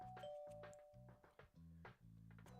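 A doorbell rings in the visual novel game Collar X Malice, its clear sustained chime sounding over a steady, rhythmic background music loop.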